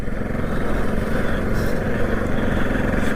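An NS motorcycle is ridden at low speed, its engine giving a steady low rumble with a continuous throaty drone.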